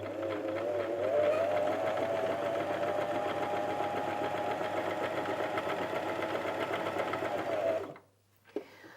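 A Janome 423S sewing machine runs a zigzag stitch in one steady, continuous whir for about eight seconds, close and fairly loud, then stops abruptly, leaving a brief faint click and near-silence.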